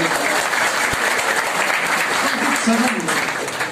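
Dense, steady applause fills the room at an anniversary party, loud and continuous throughout, with a voice speaking underneath.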